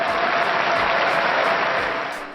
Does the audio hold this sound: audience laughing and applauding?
yes